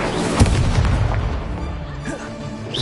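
Incendio fire spell being cast in the video game Hogwarts Legacy, a loud burst of whooshing, crackling blasts with a strong thump early on, continuing as a dense rumble throughout.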